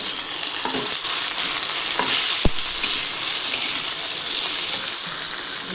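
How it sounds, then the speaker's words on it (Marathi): Tomatoes dropped into a pan of frying egg curry masala give a loud, constant close sizzle with stirring scrapes and one sharp clack of the spoon against the pan. "टमाटो पण त्याच्यातच टाकले"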